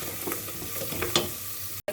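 Steady sizzling of chopped vegetables sautéing in a pan, with occasional stirring scrapes and clinks, continuous and close, ending in a brief cut to silence.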